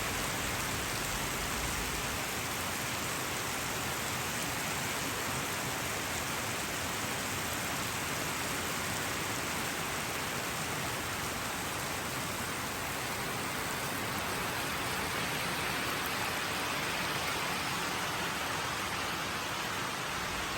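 Heavy rain falls steadily on a village, a dense, unbroken hiss of downpour with no voices.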